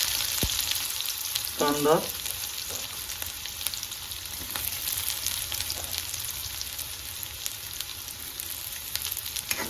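Chopped garlic and onion fry in a hot pan with a steady close sizzle, joined by occasional stirring scrapes and a brief spoken word early on.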